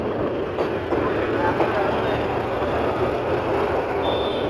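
The Karnaphuli commuter train rumbles along the track toward a railway station, a continuous broad roar of wheels and carriages close by, steady throughout without distinct horn blasts.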